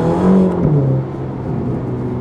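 Engine of a Ferrari Roma supercar with 620 horsepower, driven in race mode with rear-wheel drive, a loud close rev with a rising then falling tone that settles into a steady hum, and no voice over it.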